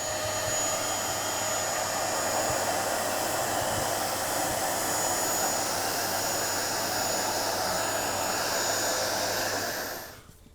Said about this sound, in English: vacuum off the excess and then catch it with a stocking over the vacuum cleaner